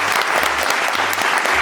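Studio audience applauds at a Saturday TV comedy show, a dense, steady wash of clapping that carries evenly through the whole moment with no speech over it.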